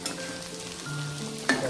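Pieces of fried rohu fish go into a simmering fish curry in a pan, giving a soft steady sizzle and bubble with a brief louder splash near the end.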